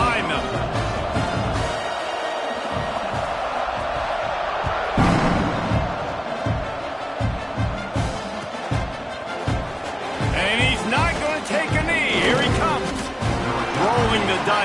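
A stadium crowd roars steadily under a commentator's voice, with bursts of louder cheering rising and falling throughout.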